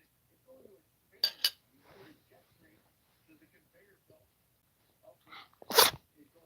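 Two quick sneezes burst out close together near the start, then a louder single sneeze follows a few seconds later, with soft talk and faint clinks in between.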